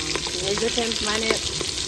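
Green chillies and spices fry in hot ghee in a village kitchen, giving a close, continuous sizzle with stirring noises mixed in.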